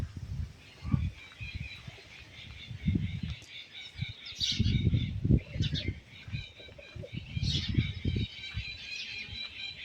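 Pet pigeons at a farm orchard give soft, intermittent cooing and low burbling calls, close by, with faint chirps and rustling in between, while someone talks quietly in the background.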